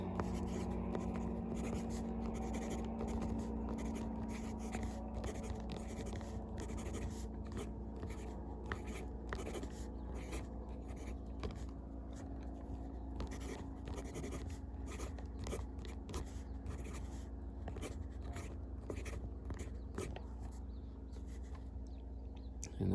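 A Majohn C4 fountain pen with a medium nib scratches steadily across paper in continuous short strokes, close and quiet over a low background hum, with no voices.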